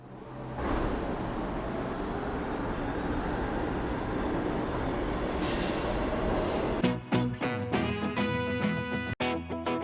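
A Seoul subway Line 8 train runs with a loud sustained rumble and high metallic wheel squeal, then rhythmic clatter and tonal motor whine as it moves, with no talk.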